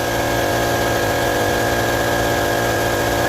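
An air conditioning compressor motor runs loud and steady nearby, a dense mechanical hum with a constant tonal whine and vibration that never changes through the clip.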